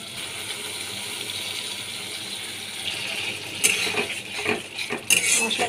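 A paste of cumin seeds, dried red chilli, green chilli and mustard with salt and turmeric fries in a pan under a constant soft sizzle, then a few sharp metallic stirring scrapes and clinks land close by near the end.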